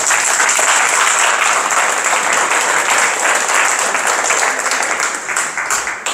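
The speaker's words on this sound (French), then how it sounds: "Et je vous applaudis, c'est moi qui vous applaudis." Loud, sustained applause at Nadine Touzeau's conference in Ittre, Belgium, a speaker and an audience clapping together in a dense, steady wash that thins slightly at the end.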